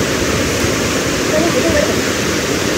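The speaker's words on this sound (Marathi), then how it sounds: "बघू शकता पाण्याचा प्रवाह खूप पाणी झालेलं इकडे" Vasundhara waterfall at Bhandardara in Maharashtra, swollen with heavy monsoon flow, a loud, close, continuous roar of rushing water with no break.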